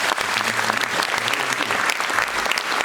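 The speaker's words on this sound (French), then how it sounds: "Vous pouvez applaudir Stéphane Le Foll." Sustained audience applause during a mayor's New Year speech in a town hall setting, a loud, dense wash of many hands clapping at once with no talk over it.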